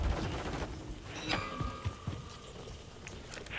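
Bursts of automatic gunfire in the Modern Warfare III video game, scattered shots and rattling fusillades at moderate distance, mixed with clattering mechanical sounds and no speech.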